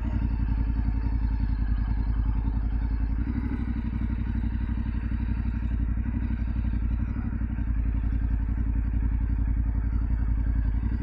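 A Yamaha Ténéré 700 motorcycle rides at slow walking pace during clutch-control practice. Its steady, close twin-cylinder engine chugs evenly at low revs, with slight throttle swells and no talking.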